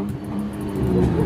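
A motorcycle with a newly fitted exhaust is started hot, its engine rumbling low and building into a louder rev toward the end, close by.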